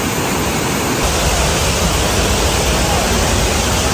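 Lasir waterfall in the Kenyir rainforest, a loud, steady broadband rush of falling water heard close by, unbroken for the whole stretch with no talking.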